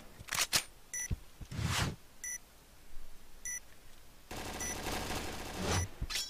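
Gunfire in a video game match, with several sharp bursts and rapid volleys mixed with repeated high electronic beeps, ending in a denser stretch of shooting.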